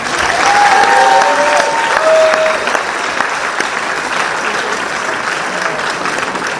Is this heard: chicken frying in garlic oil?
no